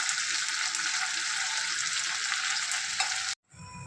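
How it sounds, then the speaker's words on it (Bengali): Ground spices for chilli chicken frying in hot oil in a pan, a loud, steady hiss and sizzle up close with light stirring, cutting off abruptly near the end. "এরপর এগুলোকে সব একটু ভেজে নেব"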